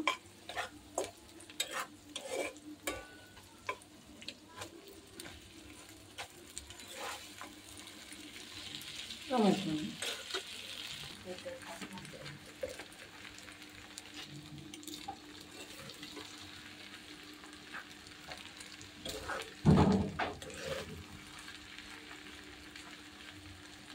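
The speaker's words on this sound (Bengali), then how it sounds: "এখন আমি নুডলসগুলো দিয়ে দিব।" Noodles tossed and stirred in a pan over a clay stove, giving a soft continuous sizzle with two louder clattering bursts of stirring, close by, with a voice talking faintly at times.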